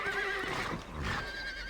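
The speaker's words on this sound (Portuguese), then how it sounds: "Não dá pra soltar esses cavalos aqui?" A horse in the video game Red Dead Redemption lets out a loud, drawn-out whinny, with a second neigh and faint hoof clops behind it.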